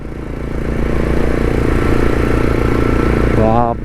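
A motorcycle engine revs hard at full throttle on a high-altitude ride from Mumbai to Leh Ladakh. A loud, steady drone holds for several seconds, then breaks off abruptly near the end, with a voice audible underneath.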